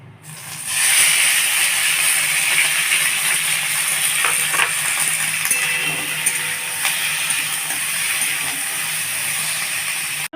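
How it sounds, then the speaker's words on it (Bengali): Paneer frying in ghee in a pan, a steady close sizzling hiss that starts abruptly and continues throughout with occasional small pops and crackles. "এখানে যে পনিরটা আছে পনিরটা আমি ভেজে তুলে রাখছি"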